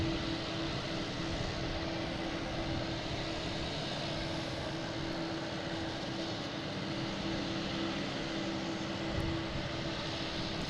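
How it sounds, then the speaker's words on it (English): Delta Airbus A319 jet on approach into Boston Logan from Chicago, a steady broadband engine roar with a constant hum, moderately distant and unchanging throughout. "Coming in, we got a Delta A319 coming in from Chicago, flight 2816."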